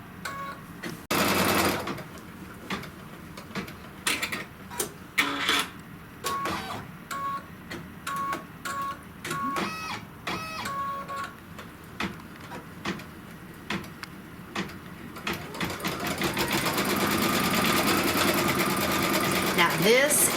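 A Kimberbell embroidery machine stitches a cutting line around a blossom pin cushion, running as a steady mechanical whir with bursts and pauses, growing louder and continuous toward the end.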